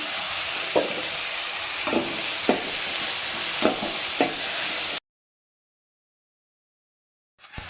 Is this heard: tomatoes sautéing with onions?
yes